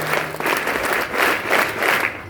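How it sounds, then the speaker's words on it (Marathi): Schoolchildren performing a scout clap cheer, rhythmic bursts of group clapping in steady waves from a crowd of students, loud and close with no talking over it. "घोषणा द्यायची आहे आणि टाळ्या वाजवायच्या"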